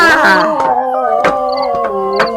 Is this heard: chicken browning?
no